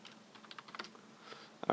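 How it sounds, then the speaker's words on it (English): Keys clatter on a computer keyboard in a short, quick burst of typing, close and fairly soft, with a louder cluster of presses at the end and no voices. "go type in regedit"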